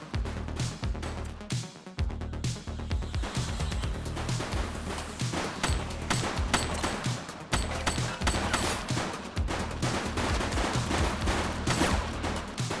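A police shootout against a crowd of gang members in The Precinct on PS5 fills the air with dense, loud, continuous gunfire, overlapping bursts and rapid shots without pause.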